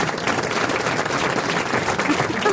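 A studio audience applauds steadily, dense clapping at a constant level for the whole stretch, with a voice faintly over it.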